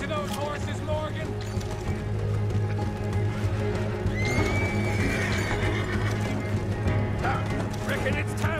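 Horses whinny over hoofbeats and busy outdoor noise in a frontier town in Red Dead Redemption 2, with a shrill neigh rising mid-way. Voices talk throughout the steady, dense mix.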